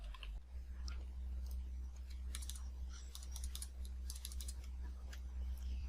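A computer keyboard is typed on to enter a new contact name, with rapid light key clicks arriving in quick bursts over a steady low electrical hum.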